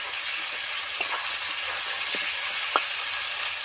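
Salted onion, potato and tomato sizzle in a hot pan with a steady, even hiss and a few faint clicks of stirring, with no voices.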